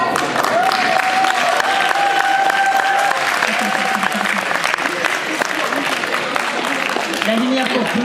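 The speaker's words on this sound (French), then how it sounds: "Applaudissez très fort Xehanort et Eratis" Crowd applause for cosplay contest winners at an anime convention awards ceremony, loud and sustained clapping with a few cheers, while a voice and tonal sounds carry faintly beneath the noise.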